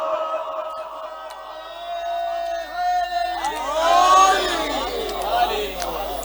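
A crowd at a Shia mourning gathering shouts religious slogans in unison, a long held chant swelling into overlapping cheering voices, loud and close.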